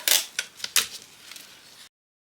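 Adhesive tape is pulled off a roll and torn in a few sharp crackling rips, followed by softer ripping bursts, close and brief, then silence.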